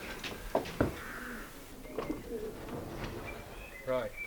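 Racing pigeons in a loft give soft, close coos and throaty calls, with a couple of sharp flutters or knocks early on and a harmonic call near the end, over a low murmuring background.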